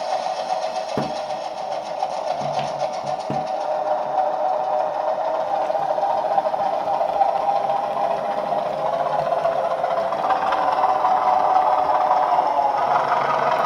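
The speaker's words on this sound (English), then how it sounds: "So now that's a new sound that I've got added to my thumper unit just by changing that CB setting." A Bachmann Kernow Class 205 Thumper model train sound unit, run at higher voltage, gives a steady buzzing engine drone that climbs slightly in pitch, with a few clicks near the start.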